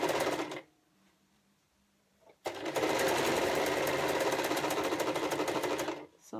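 A sewing machine back stitches a face mask, a brief whir at the start, a pause, then a long loud run of steady, rapid stitching close by.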